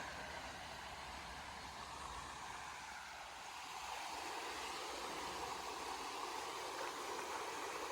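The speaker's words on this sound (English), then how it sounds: "So from down here, you can hear the water just flowing right on down." Creek water flows steadily beneath Campbell's Covered Bridge in Greenville County, South Carolina, a faint, even rushing hiss heard from down near the stream with no voices.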